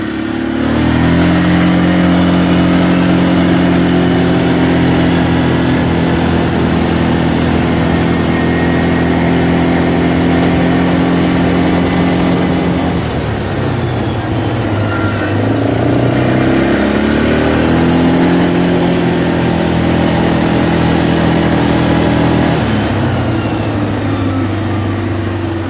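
A four-wheeler ATV engine drones steadily nearby as it drives toward a food plot, its pitch dipping and rising twice through gear or throttle changes over a continuous, loud run with no talking.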